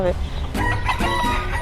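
Roosters crowing and clucking outdoors on a Miami Beach street, a harmonic crow rising over ambient background with a brief voice speaking near the start.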